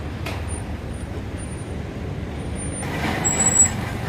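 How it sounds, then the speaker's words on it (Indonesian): A tour bus rolls past on a road near a large construction site, a steady low engine rumble with a sharp air-brake hiss near the end and a high whine. "Ada bus pesiar lalu."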